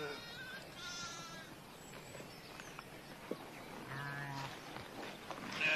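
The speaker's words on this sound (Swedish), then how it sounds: "Vi ser nu den här baggen som ligger mitt ibland fåren här." Sheep and newborn lambs bleat in a pen, several separate calls from near and farther off, some higher and thinner than others, over a quiet background with faint talk.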